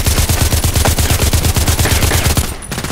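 An H&K 416c rifle fires in Contract Wars, a rapid, steady automatic burst of loud, close shots in an even rhythm lasting over two seconds before stopping.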